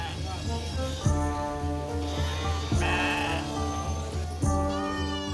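Several sheep bleat loudly and close by, one call after another in a steady series of drawn-out cries.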